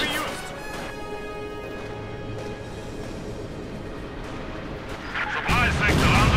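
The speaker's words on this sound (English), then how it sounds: "a light artillery barrage, leichtes Infanteriegeschütz supporting the 1st Infantry Division" Light infantry gun artillery barrage in Company of Heroes 2, a steady dense rumble of crashes and blasts that swells louder near the end, with battle noise layered throughout.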